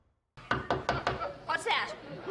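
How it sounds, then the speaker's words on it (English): Several sharp knocks on a door, four evenly spaced raps close and loud, followed by a muffled stir of voices in a studio comedy sketch. "Sounds like a knock at the door."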